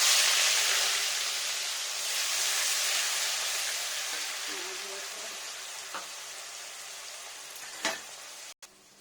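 Five-spice seeds and onion paste frying in hot oil for fish and raw pumpkin curry, a steady soft sizzle and hiss that slowly fades, with a couple of faint clinks near the end.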